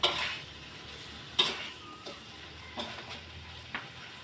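Duck being stir-fried in a wok: a steady low sizzle with scattered sharp clinks and scrapes of a utensil against the pan, a few louder knocks at the start and middle, no talking.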